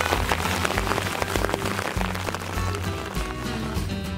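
Hail pelting down hard on a high mountain pass, a dense, steady patter of impacts that stays loud and close throughout, with no voices.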